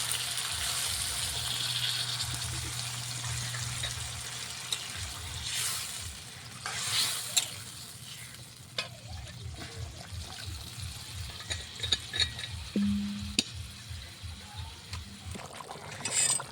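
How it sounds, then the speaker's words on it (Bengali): Fish curry broth simmering in a pan with spices, heard as a soft bubbling and liquid sizzle with a rapid burst of bubbling later on. Scattered clinks and stirring sounds come and go. "মশলার মধ্যে কষিয়ে নিলাম, ঝোল ঢেললাম।"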